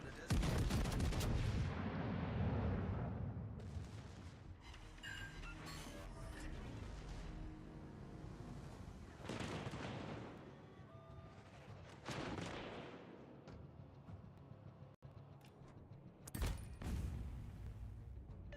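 Artillery fire in a naval combat video game: repeated heavy booming salvos with rolling tails, loud and close at the start, then scattered blasts and crashes following one another at irregular intervals.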